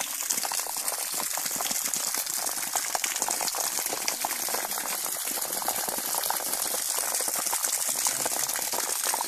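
A 12V DC water pump pushes water up a pipe about 25 feet high, a steady, close hiss of rushing and splashing water with no talk over it.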